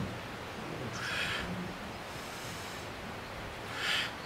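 Slow breaths during a floor stretching exercise: two soft, airy exhalations about three seconds apart, faint and close, over a quiet hissy background with no talking.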